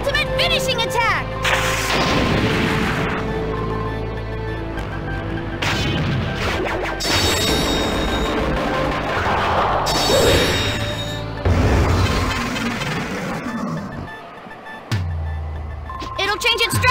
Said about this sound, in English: It's an ultimate finishing attack!